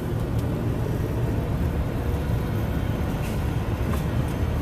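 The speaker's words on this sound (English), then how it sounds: "the tram just went by" A tram passing close by on a city street, a steady broad rumble and roar of wheels and motor that holds level throughout, with no speech.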